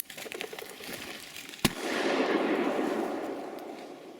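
A single sharp shotgun blast during a woodcock hunt in a summer forest, loud and close, followed by a long rolling echo that fades slowly over a couple of seconds.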